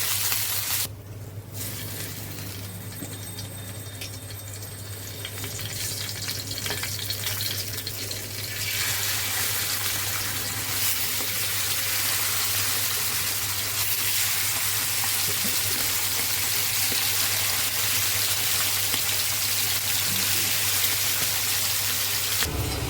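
Pomfret fish frying in a pan of oil, a steady broadband sizzle that holds unbroken and grows a little louder partway through, close by with no talk.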